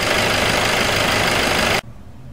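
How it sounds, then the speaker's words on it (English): A 2015 VW Golf TDI diesel idling, a loud steady rattling clatter that stays even, then cuts abruptly to a much quieter hum near the end. "Now at idle, the diesel's a bit more noisier than the gasoline 4-cylinder engines"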